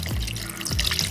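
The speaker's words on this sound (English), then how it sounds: "I'm going to put some water in here." Water poured from a cup into a blender jar full of ice for a Maui-style smoothie, giving a continuous soft splashing gush with a faint hollow ring, quiet and close.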